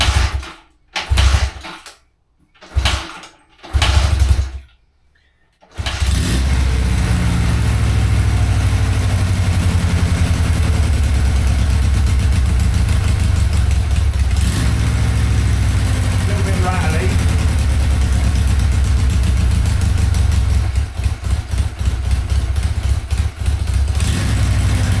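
A Honda CD200 motorcycle gets several choppy kick-start attempts, then catches and settles into a steady, loud, slightly rattly idle that carries on, with a voice talking over it.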